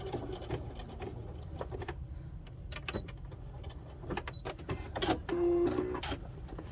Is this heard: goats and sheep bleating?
no